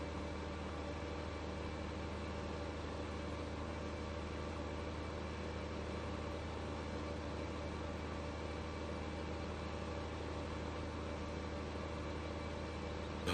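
Tractor fitted with a front mower cutting grass in Farming Simulator 15, a steady unbroken engine drone with broadband whirring noise, constant and fairly quiet, with no voices.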